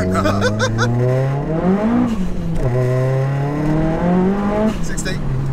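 A 480bhp big-turbo, fully forged SEAT Leon Cupra R launches with wheelspin, its engine note climbing loudly through rising revs, then dipping at a gear change and pulling hard again, with people talking and chuckling nearby.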